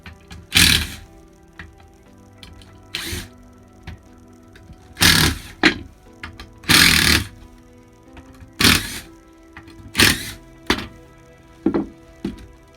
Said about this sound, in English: And then we will take off the track covers.